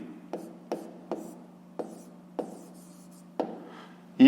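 A pen writing out a fifth-grade math solution on paper, close and dry, with about seven distinct scratchy strokes at irregular intervals and quiet rubbing between them. There is no talk.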